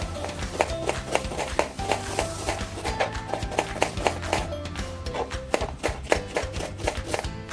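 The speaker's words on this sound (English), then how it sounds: "Let's chop the onions lengthwise." Onions chopped lengthwise with a knife on a board, a fast steady run of close crisp thuds repeating throughout, alone without talk.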